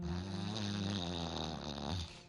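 A voice imitates deep snoring on his back, one long, low, rattling breath held steady for about two seconds before breaking off, close and loud.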